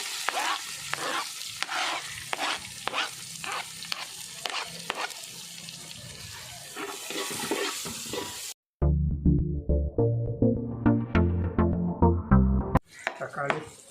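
Garlic, ginger and small onions frying in hot oil for a Kerala sardine (mathi) fish biriyani, a steady sizzle with scraping stirs and light clatter for about nine seconds before the scene cuts to a louder stretch of voice.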